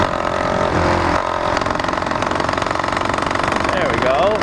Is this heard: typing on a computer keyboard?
no